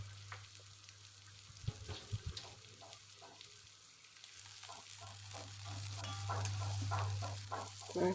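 Bruised lemongrass and galangal frying and being stirred in a pan, faint sizzling with soft intermittent scrapes over a low steady hum, quiet and close.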